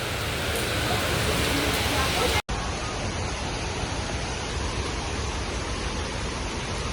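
Waterfall at Lake Sebu's Seven Falls, a loud, steady broadband roar of falling water that fills the whole clip, briefly cut by a short break midway, with voices faintly beneath.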